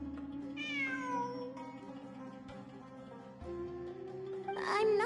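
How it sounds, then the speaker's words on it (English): A cat meows in the Genshin Impact video game, a rising-then-falling call near the start with a second, brighter meow at the end, heard over a steady hum of game music and ambience. "It really is a cat."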